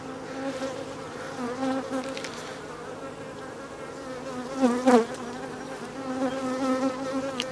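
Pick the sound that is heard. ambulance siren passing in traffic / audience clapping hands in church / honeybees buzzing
honeybees buzzing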